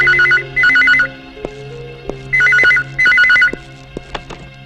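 A telephone rings in two trilling double bursts with a pause between them, loud and close, followed by a few soft clicks and knocks.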